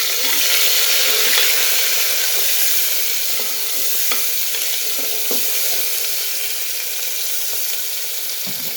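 Chopped medium tomato and ground green spices go into hot Gujarati dal on the stove, setting off a steady, close, bright sizzle with faint stirring clinks throughout and no talking.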